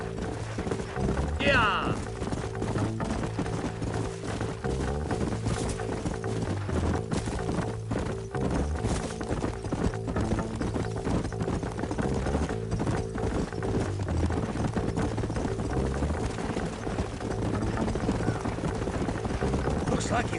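Horses' hooves clip-clop continuously at a steady trotting rhythm in Red Dead Redemption, with game music droning underneath and a voice shouting briefly near the start.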